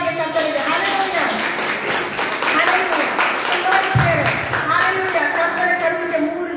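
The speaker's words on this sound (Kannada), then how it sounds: "ಚಪ್ಪಾಳೆ ತಟ್ಟಿನ ಜೋರಾಗಿ ಕರ್ತನಿಗೆ" A prayer group clapping loudly for the Lord in Hubli Dharwad: steady, even rhythmic clapping that runs under a leader's voice throughout, with music or singing in the background.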